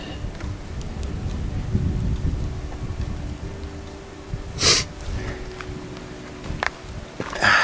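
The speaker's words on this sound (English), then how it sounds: "It's raining a little bit, not too much." Light rain falls outdoors in the mountains of the Enchantments, 8 Mile/Caroline Zone, with much thunder about: a steady soft hiss over a low rumble of thunder, with a few brief louder bursts close by.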